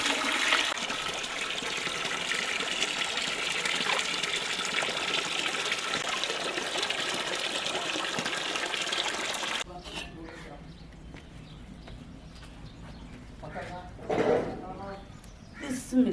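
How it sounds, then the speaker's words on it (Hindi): Water runs steadily over chicken being washed outdoors in a village kitchen, a continuous splashing gush that stops abruptly, followed by quieter handling sounds and a brief splash. "चिकन को हम अच्छे तरीके से धो लेंगे साफ करके।"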